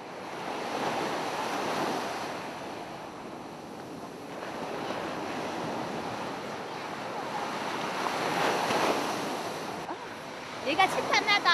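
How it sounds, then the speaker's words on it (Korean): Ocean waves breaking on a seaside shore at dawn in Gangwon Province, a continuous wash of surf with swelling crests, wind buffeting the microphone and a few faint clicks near the end. "이튿날 새벽 세 자매가 다시 바닷가에 섰다."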